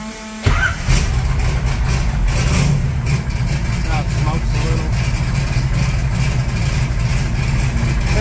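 A 1980 Trans Am engine cranks and catches, then settles into a steady, loud idle that rumbles on throughout while someone talks over it.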